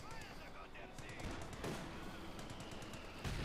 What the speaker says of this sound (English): There you go, more mortar fire.